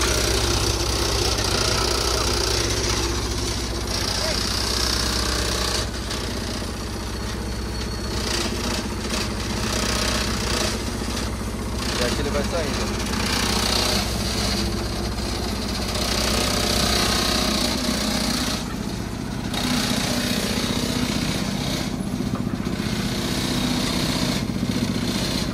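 A curb and gutter extruder machine's engine runs steadily and loud throughout, a continuous mechanical drone with slight knocking texture, as the machine pushes itself along on concrete it extrudes; no talk is heard.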